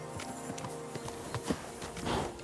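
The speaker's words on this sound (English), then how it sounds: "Horse." Horse hooves clip-clop at a steady walking pace in the video game Kingdom Come Deliverance 2, distinct close hoofbeats over a low background hum.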